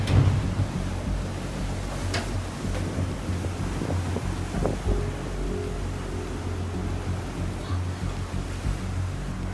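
Strong 25-knot wind roars steadily across the mic on a sailboat flying a big spinnaker at sea in the South Atlantic at night, with a low rumble of water and hull beneath it. There are no clear voices.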